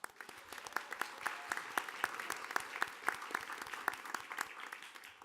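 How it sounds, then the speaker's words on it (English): A modest audience at a school board meeting gives a round of applause, distinct individual claps in a steady, fairly sparse rhythm, heard from a little distance throughout. "please give them a round of applause as well."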